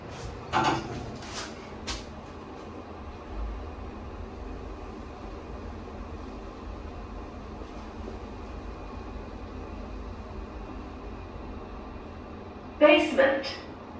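A Toshiba Spacel-III machine-room-less carpark lift at Woodlands North Coast travels downward with a steady low rumble and hum, while a brief voice announcement sounds near the start and again near the end.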